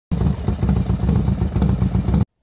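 Motorcycle engine in the Sakura School Simulator video game, a loud, close, steady throbbing idle with a rapid pulsing rhythm that starts and stops abruptly, without any talking.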